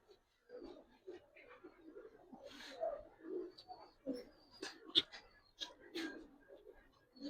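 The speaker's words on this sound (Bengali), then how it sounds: "আর এটা হইলো আপনার আর্মি জেনারেশনের কবুতর" Silver and Jabra pigeons, a large collection, coo in low murmuring bursts at close range, with scattered sharper calls and wing or body rustles mixed in.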